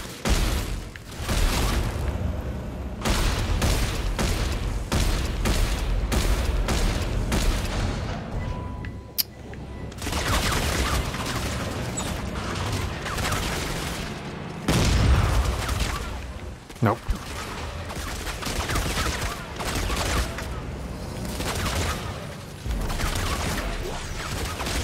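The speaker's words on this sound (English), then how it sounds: "Just shooting randomly." Near-continuous gunfire in the video game Dead Space 3, dense bursts of loud weapon blasts separated by short gaps, with a couple of sharp metallic clanks and heavy thuds between volleys.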